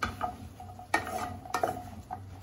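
Mushrooms dry-roasting in a hot pan without oil, stirred with a utensil that gives several sharp scraping clinks against the metal over a soft, steady background; close and fairly quiet.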